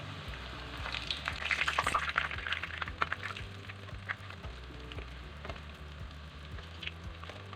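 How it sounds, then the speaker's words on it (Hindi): Potato nuggets fry in hot oil with a soft, steady sizzle and crackle, faint and close, with a few brief louder bursts. "तकरीबन 1 मिनट के अंदर बस दोनों साइड से ये फ्राई हो जाता है।"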